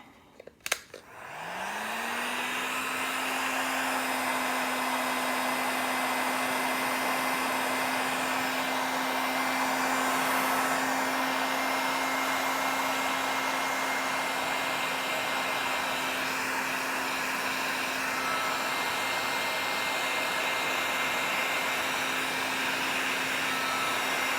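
A heat gun whirs into a steady, loud drone after a brief click and rises to speed, blowing continuously as heat-shrink tubing is shrunk over headlight wiring on an Audi A3.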